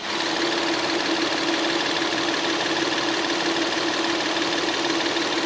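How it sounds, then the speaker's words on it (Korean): A Hyundai Aslan's engine idles with the hood open, a steady, even hum with a faint mechanical ticking that stays constant and close throughout, with no talking. "엔진 소리 들으셨죠? 정말 깔끔합니다. 정숙하고요."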